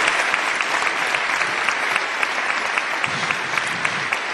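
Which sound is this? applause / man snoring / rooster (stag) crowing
applause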